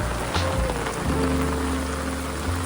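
Steady rain hissing on a surface, continuous and fairly close, with a low hum underneath and no voices.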